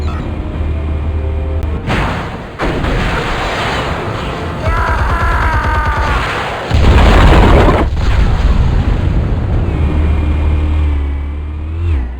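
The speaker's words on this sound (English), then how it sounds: "Explosives armed. Fire when ready." Explosives detonate in the video game Batman: The Telltale Series, a series of heavy booms and deep rumbling bursts layered over game effects, with the loudest blast landing near the middle.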